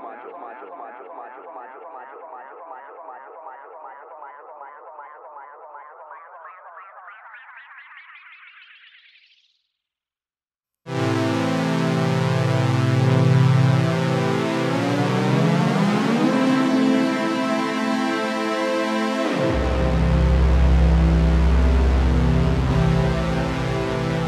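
Processed sounds from Tiptop Audio Z5000 echo and reverb modules: a pulsing tone swells and rises in pitch for about ten seconds, cuts to a brief silence, then gives way to dense, loud, sustained reverberant tones with shifting harmonics.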